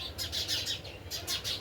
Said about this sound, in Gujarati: મસ્ત મજાના ચકલા પણ બોલે છે